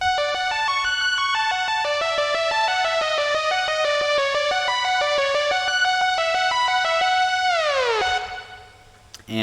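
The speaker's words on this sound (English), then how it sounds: "Here's the saw wave." A bright sawtooth-wave synth plays a rapid arpeggio lead from an electronic dance track, loud and sustained alone, ending in a downward pitch sweep before a brief cut.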